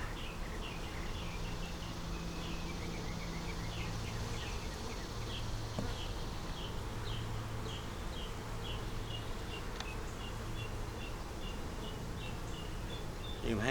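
A honeybee swarm split from a larger swarm hangs festooning nearby, giving off a steady, continuous buzz with individual bees droning past the microphone and faint bird calls behind.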